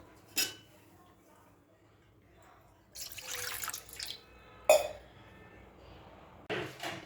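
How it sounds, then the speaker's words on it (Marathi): During mutton cooking, water is poured onto a metal plate, giving two short bursts of splashing and trickling with a clink, separated by quiet stretches. "थोडं आता त्यामध्ये पाणी घालायचं आहे ताटावर"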